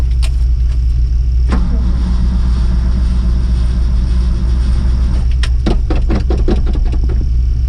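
A 1977 engine with a manual choke, choked, runs at a steady, close, low rumbling idle, with a few sharp clicks and knocks toward the end.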